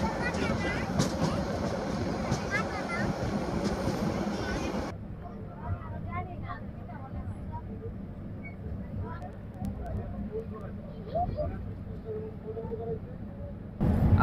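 The Parjatak Express runs from Dhaka to Cox's Bazar with a continuous rumble and rattle of carriages, loud at first and then muffled, while someone talks over it.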